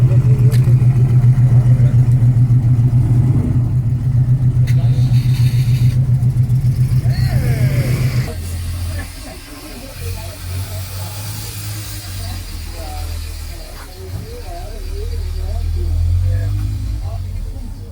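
Vintage 1955 Citroën 11 Légère at a classic car gathering in Maisons-Laffitte, a loud low engine rumble nearby for about eight seconds, then a quieter idling or receding drone with voices talking over it.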